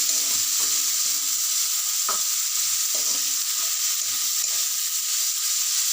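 Three medium chopped onions frying in hot oil, a steady bright sizzle with occasional stirring scrapes, close and continuous with no talking.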